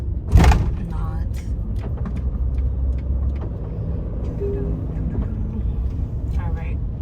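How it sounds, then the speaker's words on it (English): Steady road traffic drones from a stop-and-go jam on an eight-lane interstate heading south on I-75 around seven o'clock, heard from inside a van with a brief thump near the start and faint rumbles throughout. "Just showing you we are stuck in traffic."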